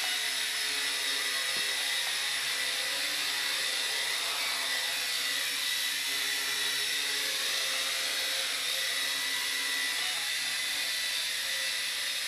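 A Revell Ominus Dromida quadcopter hovers indoors, its rotors giving a steady, high-pitched buzzing whine that holds at an even level throughout, close by and without speech.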